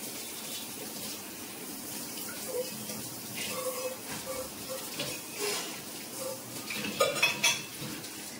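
Tea being stirred and mixed in a pot in a home kitchen, with light clinks of a spoon against metal and soft liquid swirling, intermittent and close, with brief louder clatters toward the end.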